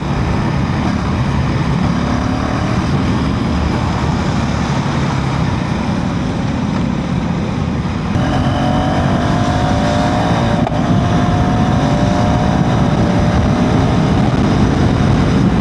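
A 2025 KTM Duke 390 motorcycle engine pulls steadily while riding, a loud continuous drone mixed with heavy wind rush throughout, without talking.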